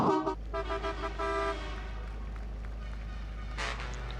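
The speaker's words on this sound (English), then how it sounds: "Norbert Kish, honking the horn, as is pretty much obligatory" A race truck at Zolder sounds its horn in a few steady tonal blasts over a deep, continuous engine rumble, loudest at the start before fading into the low drone.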